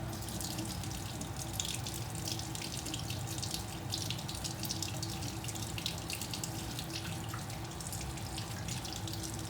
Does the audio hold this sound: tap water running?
yes